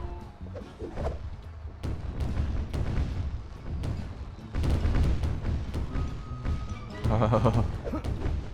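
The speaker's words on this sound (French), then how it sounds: "J'aimerais bien savoir où atterrissent tous ces boulets de canon" Cannons fire in the video game Sly 4, a series of dull booms and thumps that recur over the few seconds, mixed with a person talking.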